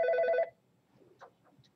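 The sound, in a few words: telephone ringing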